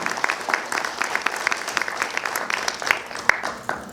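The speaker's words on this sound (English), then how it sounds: "round of applause for all those folks," An audience at a school board candidates' meeting claps in a room, a moderate patter of many hands with sharp individual claps, fading toward the end.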